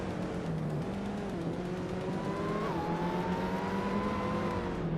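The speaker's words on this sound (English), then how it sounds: "Oaks-Wolfe is driving a 2016 Opel Astra TCR and is currently in 5th place" Simulated racing car engines in a video game, including a 2016 Opel Astra TCR, drone steadily and continuously with engine pitch shifting upward partway through, loud and close with no talking.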